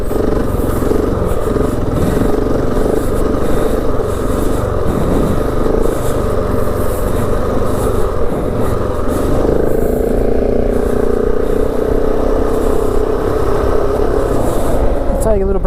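A KTM 690 adventure motorcycle ridden solo through Simpson Desert sand dunes, its engine droning steadily and loudly close by throughout, with the pitch shifting as the bike labours through the sand.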